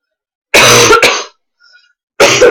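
A person coughs and clears their throat in loud, close bursts: a long harsh rasp, a quick second cough, then another burst after a near-silent gap.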